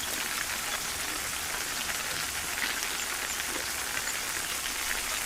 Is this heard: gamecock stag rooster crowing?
no